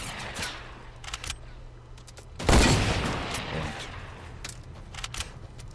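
Gunfire in the Fortnite battle royale video game, with one loud burst cracking out midway through and trailing off over steady background game ambience and scattered smaller sharp sounds.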